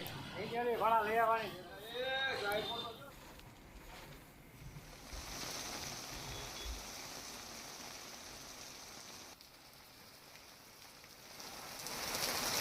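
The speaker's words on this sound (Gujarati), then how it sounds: "ધોધમાર વરસાદ વરસી રહ્યો છે" A voice talks briefly at the start, then a steady hiss of a heavy downpour in Surendranagar, Gujarat continues on its own, moderately loud throughout.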